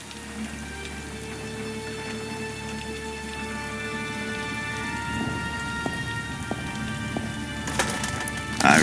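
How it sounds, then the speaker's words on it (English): Steady rain patters throughout a game scene aboard a space station, with low rumbling thunder rolling beneath and a sharper burst of thunder crackling near the end, all without talk. "the gentle rapping of the rain"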